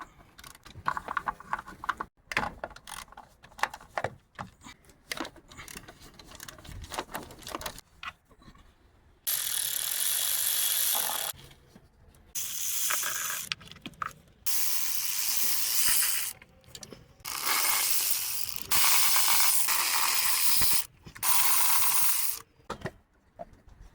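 A ratchet backs out 10mm valve cover bolts on a 2018 Honda CR-V engine, with quiet handling at first, then several loud bursts of rapid clicking separated by short pauses.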